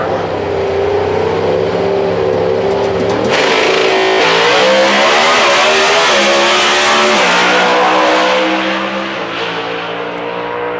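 A Super Street drag car revs hard during a burnout at Houston Raceway Park, a loud, sustained engine roar rising and holding with a harsh tire-spinning hiss, close and continuous.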